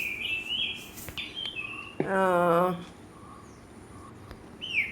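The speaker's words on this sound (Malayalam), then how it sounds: "കിളികളുടെ ശബ്ദങ്ങളും" Birds chirp in a farm garden, with scattered high tweets around a louder, longer warbling call in the middle. Quiet outdoor background fills the gaps between calls.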